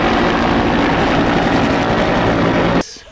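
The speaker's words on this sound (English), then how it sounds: "This is a fighter helicopter, guys." A fighter helicopter gives off a loud, steady engine and rotor drone with a strong low hum, close and continuous before cutting off abruptly near the end.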